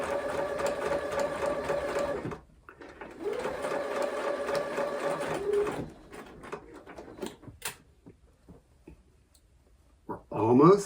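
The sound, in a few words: sewing machine slowly stitching fabric along a curve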